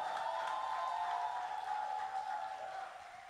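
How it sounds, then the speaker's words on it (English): Church congregation clapping for a named guest during a prophet's sermon, a steady wash of applause sustained for a few seconds before easing off slightly at the end, with no speech over it. "Let's clap and make LaTosha feel real good"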